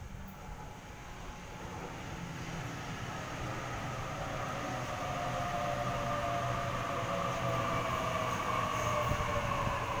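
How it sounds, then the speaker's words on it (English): A Sydney Trains Series 1 Waratah set rolls into a platform at Campsie station, its steady rumble and wheel noise building gradually louder over about ten seconds, with no voices. "We have a Series 1 Waratah arriving into Platform 1, City Circle via Sydenham service."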